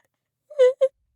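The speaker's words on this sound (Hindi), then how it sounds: "तभी ऊपर छत से किसी के रोने की आवाज आई।" Two short wailing sobs from a crying voice, used as a horror-story sound effect, a longer moan followed quickly by a brief second cry against total silence.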